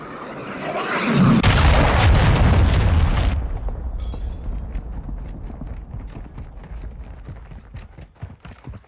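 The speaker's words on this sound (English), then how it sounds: "Hostile cruise missile launched." A cruise missile explosion in the video game Modern Warfare II: a heavy, roaring boom that swells over about two seconds, then cuts off into a rattle of distant gunfire and crackling debris.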